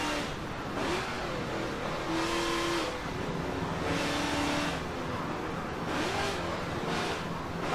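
Toretto's Ice Charger racing in Forza Motorsport 7, its engine revving and surging in repeated rising and falling pulls over continuous road and tire noise, loud and close, no talk.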